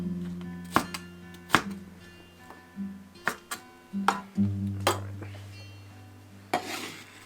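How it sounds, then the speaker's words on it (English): Onion being rough-chopped with a knife on a board for habanero salsa, a string of sharp, irregular close knocks with short pauses between them and a low hum underneath. "Anyway, I just like to give them a rough chop,"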